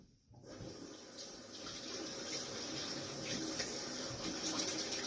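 Warm water gushes from a tap for washing up, a close, steady rushing stream that starts abruptly after a brief silence and keeps flowing with no speech.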